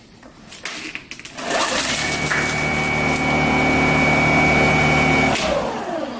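A Snow Joe iON18SB-HYB cordless electric snow blower starts up and runs with a loud, steady motor hum for about four seconds, then shuts off and winds down.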